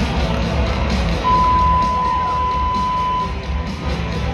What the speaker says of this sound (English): Look at those blue shirts back there cheering on.